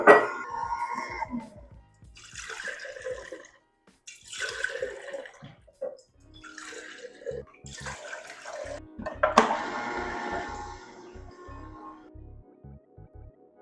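Watermelon juice pouring from a juicer, a wet splashing trickle that comes in several separate bursts, then settles into a steadier stream with low motor rumble underneath.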